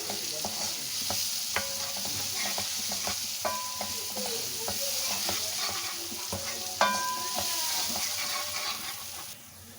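Masala frying in a pan at home, a steady sizzle with repeated scraping and stirring clicks of a spoon against the pan, close and continuous with no talk.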